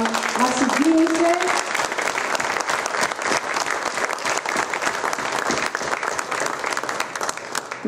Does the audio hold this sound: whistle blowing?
no